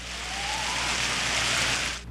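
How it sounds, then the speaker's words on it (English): Small hail pellets fall in the cold high Andes above Cusco, Peru, making a dense, steady hiss of patter that swells slightly and then cuts off, with no voices. "It's much colder here, and pellets start falling from the sky."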